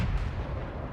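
Cannon shot from a French AMX 40 tank in World of Tanks, a deep booming blast with a rumbling low-heavy decay, heard alone and fairly close.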